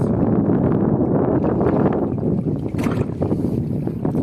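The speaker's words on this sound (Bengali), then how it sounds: "এটা হচ্ছে বড় বোট" A speed boat moving on the sea off Masirah, Oman, makes a loud, steady rush of engine, water and wind noise close by, with no talk.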